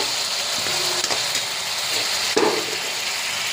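Masala for gati kochur dalna sizzles and fries in oil, a steady close hiss with a few soft scrapes and one louder stirring clatter.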